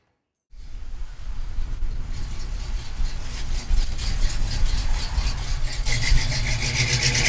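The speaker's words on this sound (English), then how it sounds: "Listen to that exhaust." A 1967 Pontiac Firebird convertible engine starts and rumbles with a deep, throaty exhaust, steady idling close by and growing slightly louder.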